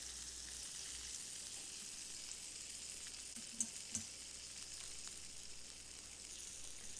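Butter sizzles steadily under a Cuban pork sandwich with melted cheese as it toasts in a pan, a continuous close frying hiss with a couple of small clicks partway through.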